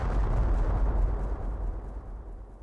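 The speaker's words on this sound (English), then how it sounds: "That sounded like an explosion." A deep rumbling explosion booms in the game Secret Files: Tunguska, a dense low roar that starts loud and slowly fades over a couple of seconds, alone with no voices.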